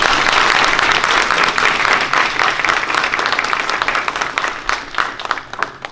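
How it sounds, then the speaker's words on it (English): A large audience at an award presentation applauds Judge Hubbard, dense sustained clapping that fills the room loudly and thins slightly toward the end. "let's give her another well-deserved round of applause"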